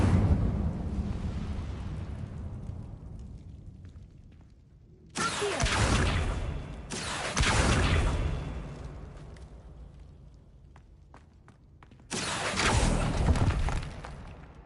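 Incendio fire spell cast in Hogwarts Legacy, heard as a quiet stretch of rumble followed by three loud, roaring bursts of flame, each lasting a second or two, with the last coming after a lull.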